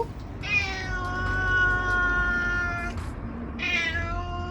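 A domestic cat meows in two long, drawn-out calls, close and clear, with a steady low background hum and no talking.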